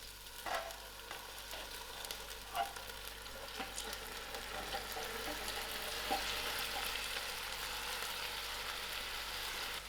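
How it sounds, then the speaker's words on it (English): Lamb meat frying in oil gives a steady, soft crackling sizzle under a low background hum, with a few faint clinks and stirring taps. "I'm going to add in my meat to my oil and allow this meat to fry out thoroughly."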